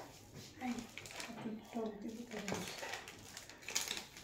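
Homemade street-style fuchka ingredients being mixed in a bowl, with soft clinks and scraping at close range under steady talking.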